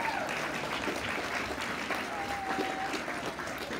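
A crowd at a red carpet event gives a round of applause for the team, a steady, moderately distant wash of clapping with faint voices mixed in throughout.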